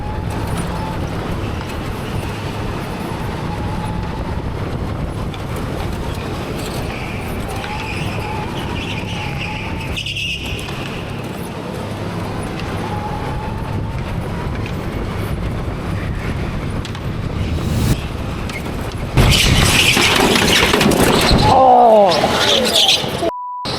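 Go-kart crash at TeamSport Warrington heard from another racer's kart: steady engine whine and rolling rumble, then a sudden loud, harsh burst of scraping and impact noise near the end.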